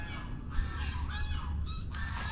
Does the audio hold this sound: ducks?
yes